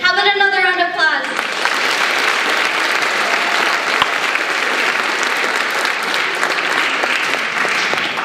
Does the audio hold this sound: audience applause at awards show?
yes